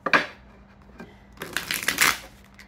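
Playing cards shuffled close by: a quick riffle burst at the start, then a longer rustling riffle and bridge, crisp and papery.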